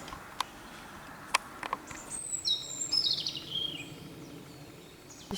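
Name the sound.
small birds singing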